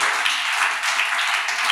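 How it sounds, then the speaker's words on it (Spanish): A church congregation in Colombia applauding during a service, dense continuous clapping from many people at steady loudness, with no talk over it. "Denle ese aplauso al Señor."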